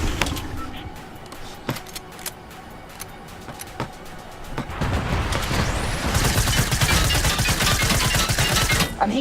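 Gunfire in Fortnite aimed at an invisible Brute: scattered sharp shots at first, then a dense sustained burst of rapid fire filling the back half, loud and close.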